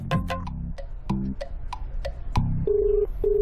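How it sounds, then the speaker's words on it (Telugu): A phone rings in a film scene: a run of quick electronic clicks and tones ends in two steady beeping ring tones, close and clear, with no speech. "ఫోన్ రింగ్ అవుతుంది."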